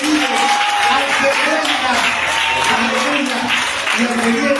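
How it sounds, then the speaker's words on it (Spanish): Congregation applauding in a church, steady clapping from a crowd with a voice speaking loudly over it throughout. "Denle un aplauso"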